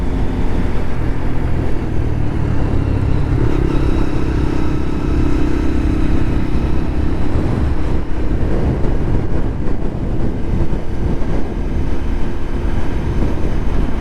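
A Lexmoto LXR 125 motorcycle being ridden, its engine drone and road and wind rumble loud and continuous throughout, steady with no talking.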